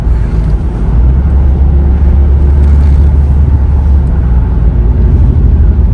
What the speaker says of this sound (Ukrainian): їде легесенько, перемикається без ніяких ривків